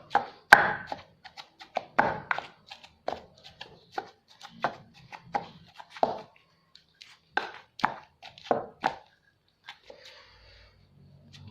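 Fish meat pounded with salt and garlic in a mortar: a steady run of sharp, close thuds, irregular but frequent, alone with no talk, fading to a softer scrape near the end.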